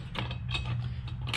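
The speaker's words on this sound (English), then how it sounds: "we're going to get the wrench and go ahead and tighten it up. That is a 10mm wrench" A 10mm ratcheting wrench tightens a bolt on a Jeep Gladiator during a light install, giving a quick run of close, light ratchet clicks and mechanical ticking over a low steady hum.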